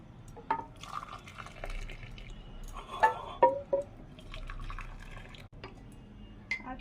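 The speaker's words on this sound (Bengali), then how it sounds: "এবার আমি কফি দিয়েছি, তার মধ্যে এবার ঢেলে নিচ্ছি।" Hot milk being poured into cups of coffee makes faint, quiet trickling and small splashes in short intermittent bursts close by.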